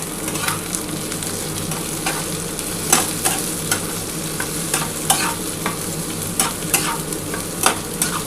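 Grated ginger stirred and fried in a pan for a pumpkin and egg dish, with a steady close sizzle and repeated scraping strokes of the spoon throughout, no voices.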